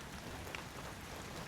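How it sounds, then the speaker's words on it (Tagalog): Rain falls as a steady, soft hiss of drops hitting surfaces, even and continuous for a brief moment with no voices. "Umuulan na."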